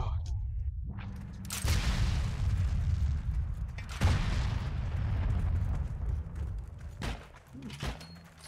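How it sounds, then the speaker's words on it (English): Explosions and gunfire boom in the online war shooter Heroes & Generals: a dense, rumbling battle din with several sharp blasts and crackling bursts over about eight seconds, loud and close. "So many explosions."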